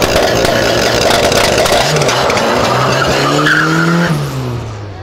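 A turbocharged VW Gol racing a 320 in a street race, with loud screeching tire skids and revving engines rising and falling in pitch, close and intense, easing off slightly at the end.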